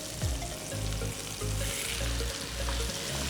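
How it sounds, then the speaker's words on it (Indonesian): Minced meat sautés in hot butter with a close, steady sizzle and repeated low scraping thumps as it is stirred in the pan, with no voices. "Kita tumis sedikit, pelan-pelan, karena ini panas ya"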